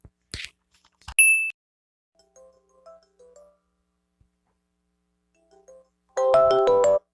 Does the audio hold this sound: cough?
no